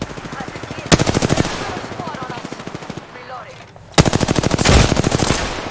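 Loud automatic gunfire in the shooter game Apex Legends, two bursts of rapid close-range machine-gun fire with a brief lull between them.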